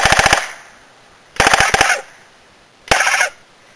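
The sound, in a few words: goose call sound of a cold propane-oxygen gas gun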